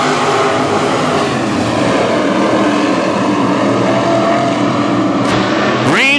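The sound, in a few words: WISSOTA Midwest Modified race cars starting a heat race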